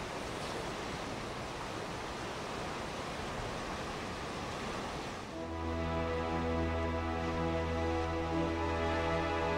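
Ocean surf breaking along the rugged Oregon coast near Cape Arago, a steady loud wash of broadband noise for about five seconds, then a sustained low droning hum takes over while the roar continues underneath.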